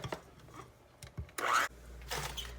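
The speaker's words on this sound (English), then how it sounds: "So 1 egg, then we blend." An electric blender whirs briefly in short bursts as an egg is mixed into cheesecake cookie batter for a keto dessert, with small kitchen clatter between the pulses.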